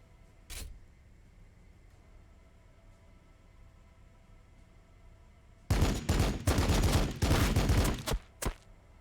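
Weapons fire in the Warhammer 40,000: Battlesector strategy game, Blood Angels against Tyranids: a single sharp shot early on, a quiet stretch, then a loud rattling burst of rapid shots lasting nearly three seconds and a last shot at the end.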